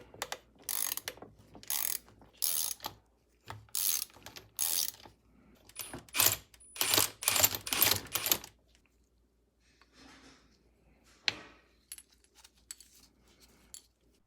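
Metallic clicks, scrapes and rattles in short bursts come from pulling the piston out of a dirt bike engine, close and distinct with pauses between, no talking.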